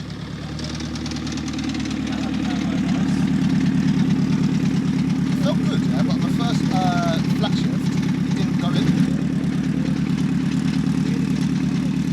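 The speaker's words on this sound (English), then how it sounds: "That sounds like clutch, doesn't it?" A Honda car's engine runs at a steady low drone with rough, rattly clutch noise layered over it, rising slightly in level early on and holding close and loud throughout.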